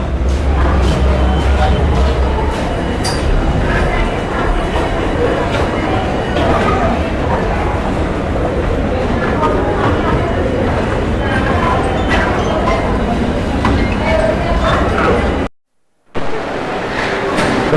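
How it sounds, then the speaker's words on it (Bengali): Busy indoor metro station ambience in Kolkata: crowd chatter, footsteps and clattering echo in a large space, with a loud low rumble early on and a brief dropout near the end. "দর্শক দেখতে পাচ্ছেন আমরা এখন আছি হচ্ছে মেট্রো স্টেশনে"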